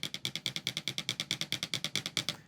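A snare drum buzz roll built from distinct, evenly spaced pulses, choppy rather than smooth, steady and close for a couple of seconds.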